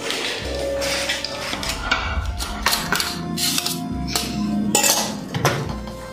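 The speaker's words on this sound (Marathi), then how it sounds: "आणि आता तिला गूळ टाकून परतायचे" Boiled chana dal with jaggery is stirred in a pan, a spoon repeatedly scraping and clinking against the metal in uneven knocks and rattles, close and fairly loud, with no voices.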